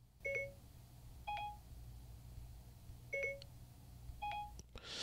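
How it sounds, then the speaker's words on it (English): Short electronic beep tones of the iOS 16 Beta 2 dictation start sound in Messages on an iPhone, four crisp two-note chimes spaced about a second apart, clean and close with no talking. "Within Beta 2, the dictation sound is a little bit different for many people."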